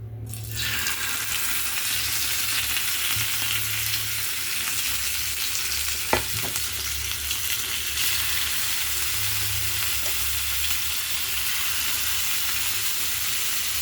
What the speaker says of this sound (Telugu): ఇప్పుడు ఈ చేపలేమో ఫ్రై చేసి అప్పుడు పులుసు పెడతానండి